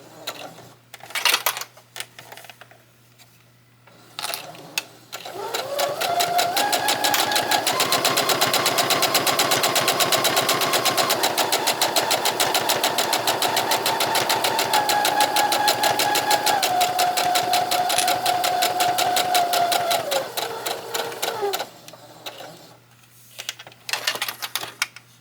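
A sewing machine stitches an apron in a close, steady run of rapid mechanical clatter lasting about fifteen seconds, with quieter starts and stops before and after the main burst.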